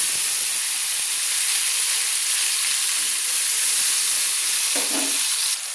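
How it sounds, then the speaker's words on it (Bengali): Chopped tomato fries in hot oil for a vegetarian dal, giving a loud, steady, close hissing sizzle that runs without a break, with a faint stir near the end. "টমেটোটাকে যাতে গলে যায় সেই জন্য আমি তেলে কিন্তু তেলে কষিয়ে নিচ্ছি"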